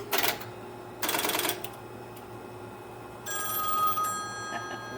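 An old telephone at a phone museum rings in two short bursts of bell clatter, followed by a brighter sustained ringing tone near the end, heard at moderate distance against quiet room noise.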